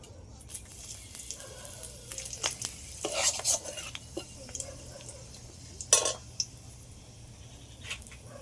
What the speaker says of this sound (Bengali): তেলের মধ্যে পনিরটাও ভেজে নেব